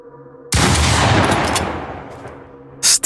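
One loud gunshot sound effect from a Polish horror audio drama cracks sharply and rolls into a long reverberant decay that fades over two seconds, with a brief bright noise burst at the end.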